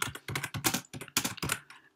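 Fast, irregular clatter of keys on a computer keyboard while coding, bursts of close taps with brief pauses, no talking.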